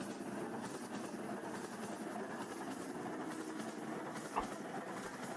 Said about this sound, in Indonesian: Naik kereta ke Ketapang.